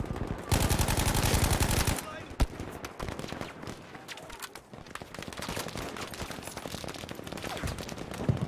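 Gunfire in the video game Battlefield V: a dense, loud burst of rapid automatic fire gives way to scattered single shots and crackling battle noise, with a voice talking over parts of it.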